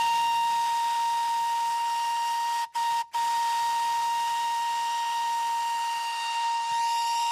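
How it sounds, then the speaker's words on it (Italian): A loud steam whistle blows in one long, steady, piercing blast, cut by two brief breaks near the middle, then sounds on alone with no voices. "fare un po' di rumore in che maniera? Con il fischio."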